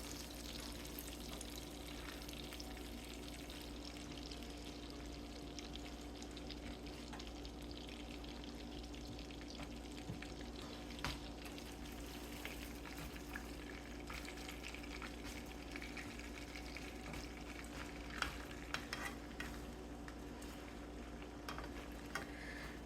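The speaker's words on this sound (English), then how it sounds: "We're going to cook that on the skin side so that we can very easily pull that skin right off after we turn it." Salmon fillets cook skin side down in a hot pan for garlic butter salmon, giving a steady, even sizzle and crackle that runs the whole time with no talking.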